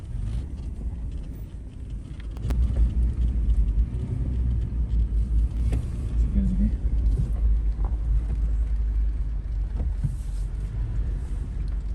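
Mercedes G Wagon driving at night on a remote Baja road, a steady low engine and tire rumble running throughout with no break, moderately loud and close, with faint rattles from the rough surface.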